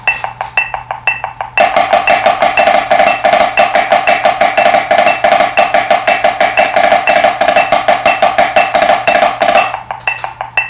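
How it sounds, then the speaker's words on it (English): A snare drum plays a steady, rapid stream of strokes in a repeating triplet diddle pattern, loud and close, with brief quieter passages at the start and end. "we play the first two lines of A, and it'll sound something like this"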